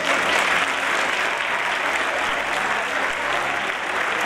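Loud, dense applause from a festival crowd at the election of the queens and ladies of honor of Guardamar's 2022 fiestas, a continuous roar of clapping with no speech.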